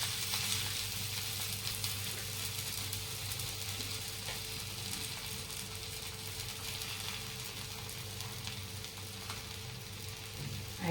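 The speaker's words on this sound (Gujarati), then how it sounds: "હવે એને આપણે તવી ઉપર શેકી લઈએ" A paratha cooks in oil on a hot tawa, giving a steady, close sizzle and crackle that holds even throughout with no one speaking.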